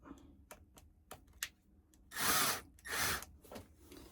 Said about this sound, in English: So I'm gonna put holes in the dowel and then screw it to the end of the countertop.